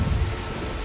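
Rain falls in a cartoon scene as a steady, dense hiss with a low rumbling underneath, continuous and fairly loud throughout the short moment.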